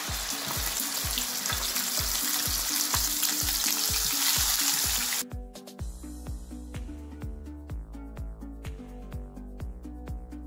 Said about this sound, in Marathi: त्यात आपण जो मसाला ग्रेव्हीसाठी तयार केलाय तो घालून घ्यायचा आहे।